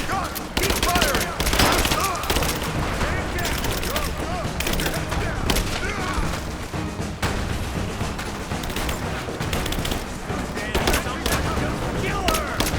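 Dense bursts of automatic gunfire and heavy firefights roar nonstop through a shootout in the video game Rise of the Tomb Raider, with shouted combat callouts from soldiers mixed underneath the loud, continuous barrage.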